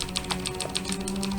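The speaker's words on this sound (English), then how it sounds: "I apologize about my keyboard noises" Computer keyboard keys clatter in quick, uneven bursts of close, crisp clicks over a low steady background hum during a game run.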